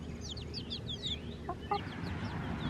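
Backyard hens in a home coop give soft clucks and a few short squawky calls, faint and somewhat distant over a steady outdoor background hiss, with no one speaking.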